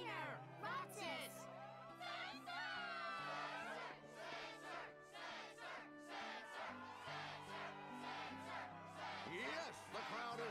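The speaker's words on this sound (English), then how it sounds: "Yes, the crowd is fired up," Crowd cheering at the Struggle tournament in Kingdom Hearts 2 Final Mix, loud continuous shouting and whooping from many voices with layered game music chords throughout.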